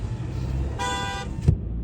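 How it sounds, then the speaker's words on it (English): A car horn honks in a steady held tone for about half a second in the middle of street traffic on a road on the Kentucky side of Cincinnati, with engine rumble and a brief thump just after. "Why are you honking a horn at me?"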